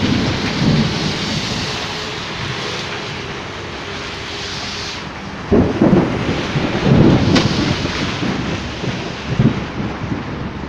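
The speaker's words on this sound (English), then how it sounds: "There were very dark clouds and thunderstorm and lightning over me." Heavy rain pours steadily under dark clouds while deep thunder rolls and rumbles repeatedly, with a louder burst of thunder partway through and gusts of wind buffeting the microphone.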